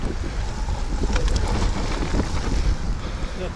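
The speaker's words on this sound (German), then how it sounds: "Boah, der Sturm." A storm wind buffets the microphone on a mountain bike trail, a loud, continuous rushing roar with gusty low rumbles throughout and no clear talk.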